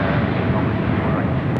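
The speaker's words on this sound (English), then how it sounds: "here goes the flight to Haneda" Airliner departing LAX bound for Haneda, a loud, dense roar of jet engines at close range, steady and broadband throughout the short stretch.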